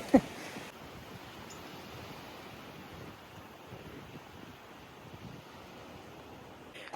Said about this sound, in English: Y'all, it is very windy.